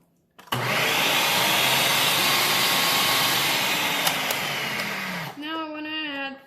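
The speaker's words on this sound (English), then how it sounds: "We're gonna mix it just to blend it slightly." An electric mixer whirs steadily at close range for about five seconds while blending condensed milk for an eggless almond coquito, then winds down to a stop.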